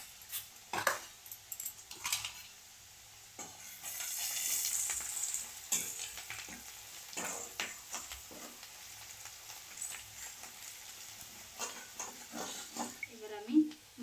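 Ground coriander, turmeric and chili powder frying in a pan for a spinach and egg curry, with a steady soft sizzle, occasional spoon stirs and scrapes, and faint background voices.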